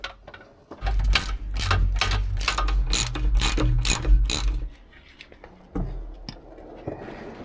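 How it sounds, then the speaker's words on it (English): A ratchet loosens the bolts holding a Jeep Rubicon's electronic sway bar, a long run of rapid close clicking followed by a pause and a shorter burst of clicks. "remove the 4 bolts holding the sway bar in place."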